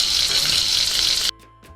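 Tempering spices added to hot oil for a tomato chutney hiss and crackle in a loud, steady sizzle that cuts off abruptly, leaving near silence.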